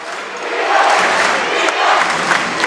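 Crowd noise fills a high school gym during a close boys basketball game between Marion and Mt. Vernon, a sustained roar of cheering and shouting from the stands, loud and dense throughout.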